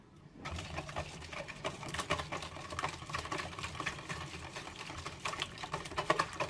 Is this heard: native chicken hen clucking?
no